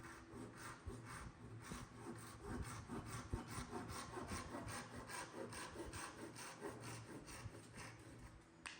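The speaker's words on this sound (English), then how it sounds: "I can begin flush trimming those as well." The wooden border of an end grain cutting board is flush trimmed with a steady, rhythmic back-and-forth rasping cut. The strokes are close, even and continuous.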